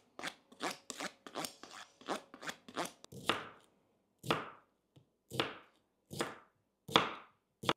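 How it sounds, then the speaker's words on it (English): Sharp crunchy cuts through cucumber with a plastic knife on a board: a quick run of rapid chops, then slower, spaced single slices, close and crisp with no voices. "And then I start chopping."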